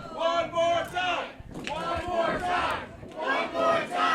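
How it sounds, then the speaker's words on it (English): A pro wrestling crowd chants in rhythmic bursts, fans shouting for one more in repeated swelling waves with short gaps between them. "Crowd's asking for one more."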